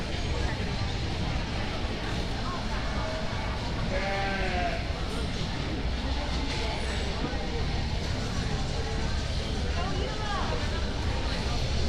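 Market goats bleating repeatedly in a show ring at a junior market goat livestock show, mixed into a constant crowd murmur and arena noise, with an announcer talking over it.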